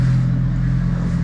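A boat engine, on a 2018 River Wild T9 running in reverse on autopilot, throttled down to a steady, loud, low rumbling hum that stays even throughout.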